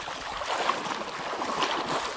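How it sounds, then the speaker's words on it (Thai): Floodwater rushing strongly past during village flooding in Ban Preng, Thailand: a steady, broad wash of turbulent water noise, moderately loud and continuous, with no talking. "โอ้โหน้ำไหลมีน้ำไหลแรงด้วยนะครับ"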